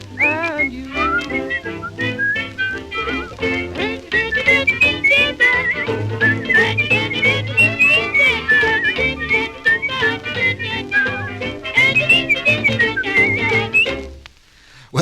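A person whistles a melodic tune clearly and close by, with lilting phrases and brief pauses for breath, ending abruptly.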